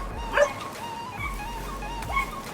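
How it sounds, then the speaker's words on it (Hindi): Dogs in a rural village, a few short barks and yips heard alone, a couple of sharp bursts spaced apart, fairly close. "तो ये रहे कुत्ते जी"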